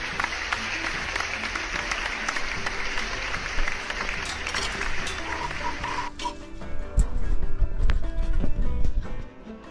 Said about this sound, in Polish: ale to wielkie brawa.